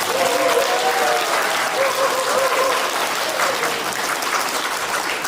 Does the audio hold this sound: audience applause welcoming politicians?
yes